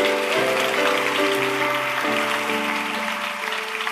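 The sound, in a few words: church congregation applauding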